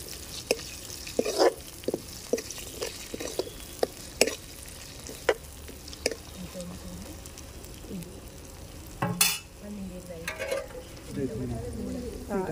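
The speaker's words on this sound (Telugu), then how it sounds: "కొద్దిగా కరివేపాకు వేసుకుంటున్నా." Curry leaves and turmeric frying in hot oil for tomato rice, giving a low steady sizzle broken by repeated sharp scrapes and taps of a spoon stirring the pan.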